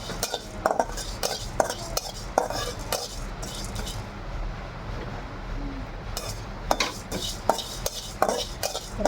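Fenugreek seeds and cumin roasting dry in a pan, stirred briskly: rapid scraping and rattling of the spoon against the metal comes in busy bursts, with a quieter pause in the middle, close and with no talking.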